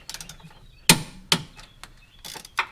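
A wrench or ratchet torques nuts on a Camaro's steering components, giving a couple of sharp metallic clicks and clacks amid lighter ratcheting ticks, close and clear in a garage.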